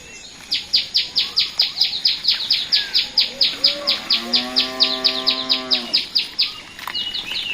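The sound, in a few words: tailorbird calling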